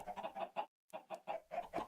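Chickens in Minecraft cluck in quick, close bursts, a run of short clucks, a brief pause, then another clucking series, loud and with no voices over them.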